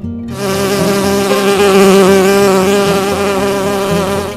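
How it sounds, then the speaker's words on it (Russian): A bee buzzes loudly and close in a steady, unbroken drone with no talking. "пчела,"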